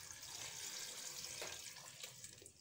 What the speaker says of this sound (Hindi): अब मैंने इसे चूल्हे पे चढ़ा दिया है और इसमें मैं पानी ऐड कर दूंगी।